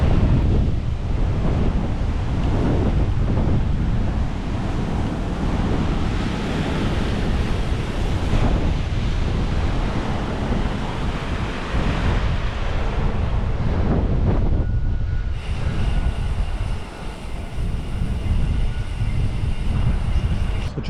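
A strong headwind buffets the microphone during a bike ride along a traffic-free route into Leeds, a loud continuous rushing roar that persists throughout the ride.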